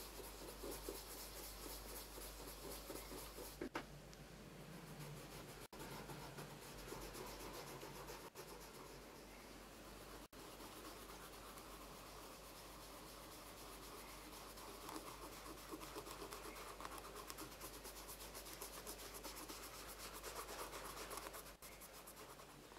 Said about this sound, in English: And we're just going to work that into the leather.